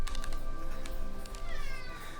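A house cat meows a few times close by, short and tonal, over a steady background hum with some faint talk.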